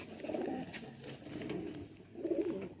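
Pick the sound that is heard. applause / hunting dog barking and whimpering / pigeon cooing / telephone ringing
pigeon cooing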